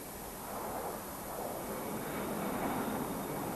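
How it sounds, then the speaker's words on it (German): Jet aircraft engines during takeoff, a steady broad roar with a faint high whine, building slightly in loudness and continuing evenly throughout without talk. "Und die Triebwerke sind so laut, dass die Cockpit-Crew kaum ihr eigenes Wort versteht."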